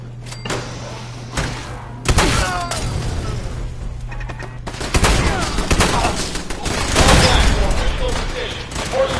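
Fallout 4 firefight with rapid, dense bursts of gunfire and clattering impacts over a steady electric hum, intensifying toward the end, with shouting voices mixed in.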